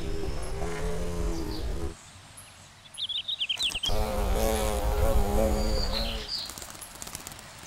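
Honeybees buzzing around dandelion flowers in a yard make a close, humming drone that swells and fades as they move, with a brief quieter gap midway before the buzzing returns strongly.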